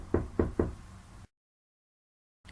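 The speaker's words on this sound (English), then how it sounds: "so I just knocked really hard" Three hard, hollow knocks on a building's door in quick succession, close and loud, followed by silence.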